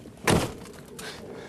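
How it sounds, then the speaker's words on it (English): The dented door of a crash-tested Smart Fortwo swings with one solid thunk near the start and a softer knock about a second later, close by and brief. "Indeed, the door not only opens normally,"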